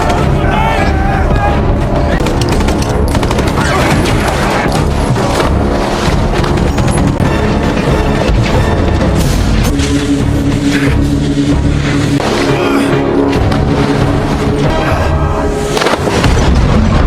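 Booms and blasts from a World War II survival film, Nazi troops opening fire on a group who had tried to blow up a target with 12 tons of dynamite, loud and dense over a constant dramatic score.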